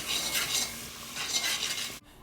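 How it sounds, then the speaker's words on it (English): Jamaican curry chicken with ginger is stirred constantly in a pot, a steady close scraping and soft sizzle in rolling waves, ending abruptly. "you want to stir that constantly because you don't want it burned"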